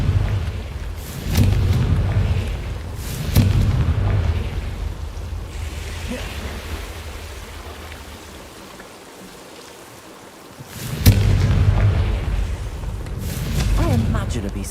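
Confringo blasting spell explosions in Hogwarts Legacy: several deep booms with rumbling tails, loud and close, over a steady background wash, spaced a few seconds apart.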